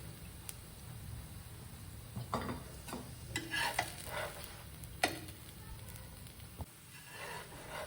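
Thalipeeth roasting in ghee on a pan, a faint crackling sizzle with a few scraping and tapping touches, quiet and close.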